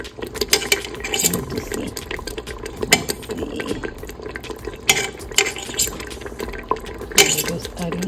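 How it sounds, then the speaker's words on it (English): Browned meatballs dropping into a pot of tomato sauce, with soft wet plops, splashes and clinks of a utensil against the pot, while a person speaks briefly nearby. "we're just gonna add these to the pot"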